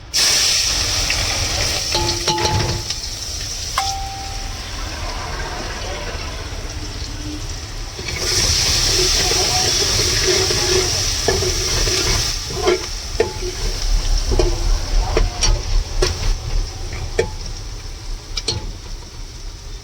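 Chopped onions dropped into hot oil already holding cumin seeds and a pinch of asafoetida, giving a continuous frying hiss and sizzle that swells loudly at times, with clinks of stirring and background voices.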